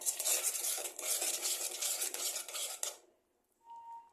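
A spoon stirs ghee and garam masala powder into a pot of rajma, giving a busy metallic scraping and clatter for about three seconds. It stops abruptly, leaving near-silence with a faint thin tone.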